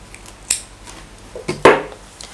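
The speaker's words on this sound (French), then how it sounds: "je vais couper mon fil." Scissors cut through crochet yarn after the border of a bonnet is finished: two or three sharp, close metallic snips, with the last one loudest, in a quiet room.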